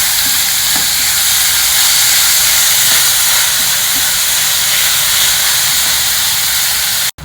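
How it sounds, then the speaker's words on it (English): Finely chopped onions fry in a pan with a loud, steady, hissing sizzle that holds evenly for about seven seconds before cutting off abruptly. "add in the finely chopped onions and fry them for 2 to 3 minutes"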